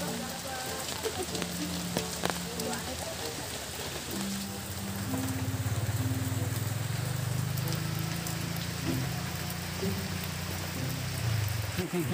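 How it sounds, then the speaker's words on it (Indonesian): Steady rain patters continuously, a dense hiss of drops on surfaces that swells slightly louder in the second half. "Hujan sih."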